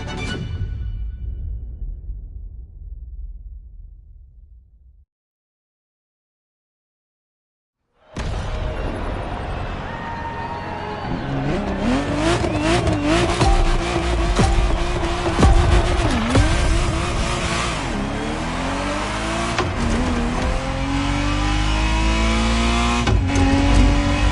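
A Ferrari Testarossa driven in The Crew Motorfest on PS5 starts with a short engine burst, falls silent, then roars back loud and continuous with revving, gear shifts and tire squeal.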